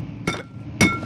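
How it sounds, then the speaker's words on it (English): Glass smashing in the horror video game Amnesia: The Dark Descent, two sharp breaking impacts about half a second apart, the second louder, with no talk over them. "Smash the glass!"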